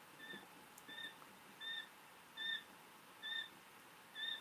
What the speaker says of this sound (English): Hear them chirping away over here.